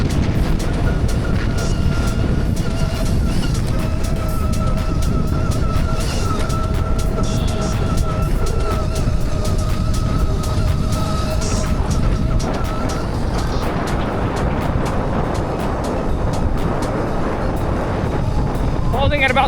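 A Mototec 60v Pro electric vehicle rides at about three-quarter throttle over sugar sand, its steady motor whine buried in loud, continuous wind roar; the whine fades toward the end.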